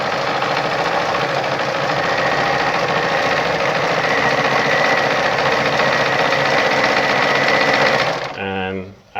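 A Brother ZU2-B680 sewing machine runs steadily while stitching a design on fabric, a close continuous mechanical whir that holds for about eight seconds before slowing and stopping with a few final stitches.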